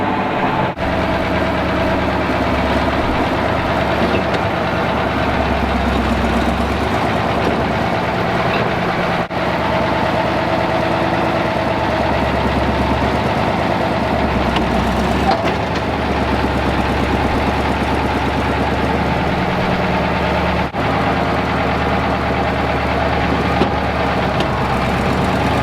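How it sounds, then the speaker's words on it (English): A tractor engine rumbles and labours steadily while pushing the back end of a 1980s Peterbilt 359 truck, a low continuous drone with faint clanks, heard up close and without voices. "push the back end of the truck with the tractor and slide the ass end that way"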